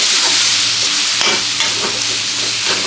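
A ladle mashes and stirs peas into frying masala, making close scraping and pressing strokes over a constant sizzle, with several distinct knocks of the ladle.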